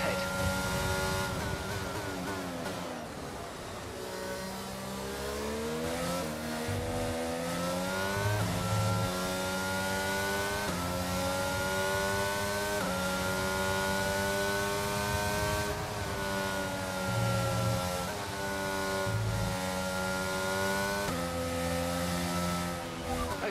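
F1 race car engines in the F1 22 video game at Miami, a high-pitched screaming engine rising and falling through gear changes, with rivals' engines audible nearby and a voice talking at times.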